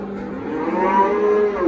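A single loud, drawn-out moo from cattle at a busy livestock market in Parkent, close by and rising slightly in pitch, with no talk over it.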